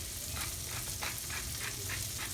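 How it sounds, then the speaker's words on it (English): Garlic and broccoli fry in a pan with a soft, steady sizzle and occasional stirring scrapes, quiet and continuous, with no voices. "I literally cooked the garlic and broccoli just for about 2 minutes"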